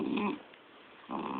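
A dog growls low and rough while chewing on a blanket indoors, two close rumbling bursts at the start and end with a quieter breathy gap between.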